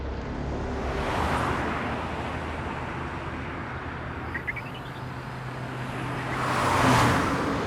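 Cars pass along a road, with two broad whooshing swells near the start and end over a steady traffic rumble. A faint bird chirp sounds briefly in the middle.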